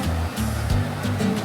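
Surf rolling onto a long, flat beach at St. Augustine state park in Florida, a steady close wash of waves with repeated surges and a low rumbling undertone, no voices.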